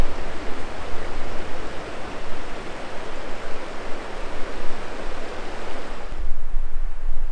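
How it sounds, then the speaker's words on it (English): The Hoh River flows through the Hoh Rainforest in Olympic National Park, a steady, close broadband rush of moving water that fills the whole stretch without a break and with no voices. "Here's a look onto the Hoh River."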